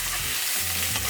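Garlic, onion and chili fry in a pot for channa and aloo, giving a close, steady sizzle with light stirring and no voices.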